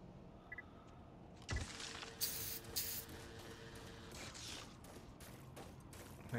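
Spray paint hissing in The Surge 2, several short bursts of spraying beginning after a sharp click, fairly faint against a low mechanical background hum.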